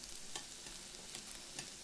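Mushrooms go into a pan of softened onions for Korean vegan bulgogi, giving a soft, steady sizzle with faint stirring scrapes and a few brief clicks, close and quiet with no talk.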